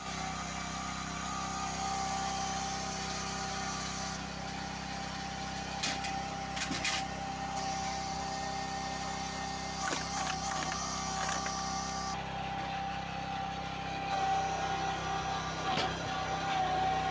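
A two-level engine-driven timber splitter runs steadily outdoors, its motor droning and humming without a break while metallic clunks and creaks from the splitting work surface now and then, loud and close throughout.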